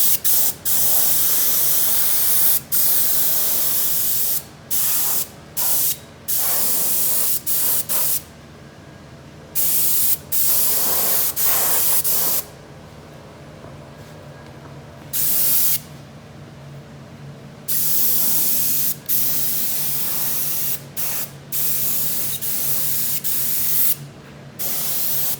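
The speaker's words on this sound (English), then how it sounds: "So we're just going to get the spray coat going on there now." Spray gun applying a colour coat to a leather car dashboard, loud close hissing bursts of varied length broken by short pauses between passes, with no talking.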